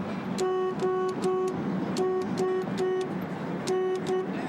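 Car horns honking in traffic, three sets of short triple blasts spaced evenly, loud and close over a background rumble of road noise.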